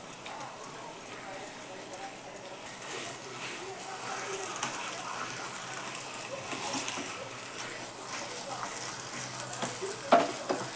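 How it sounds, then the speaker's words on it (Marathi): A Mumbai Karachi halwa mixture cooks in a pan over a low gas flame and is stirred steadily. A quiet sizzle runs throughout with soft scraping strokes, under faint background talk. "गॅस बारीक करून चांगलं परत एक हलवून घेते मी चांगलं"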